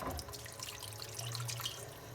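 A little water pours into a pan of chicken and spinach curry, a soft brief trickle and splash with faint sizzling underneath.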